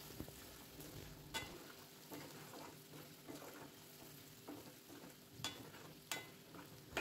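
Ginger garlic paste fries in a pan for chicken pickle with a soft, steady sizzle, faint and close, punctuated by a few light clicks of a stirring spoon.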